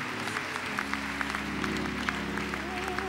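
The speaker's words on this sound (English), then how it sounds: "Clap those hands for Jesus." A church congregation claps along during worship, with steady rhythmic hand claps over sustained organ or keyboard tones and faint voices in the background.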